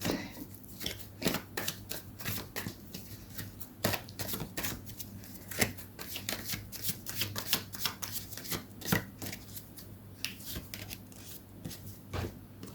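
Tarot cards are shuffled close by in a steady run of crisp riffling clicks and soft slaps lasting the whole stretch, with no voices over them.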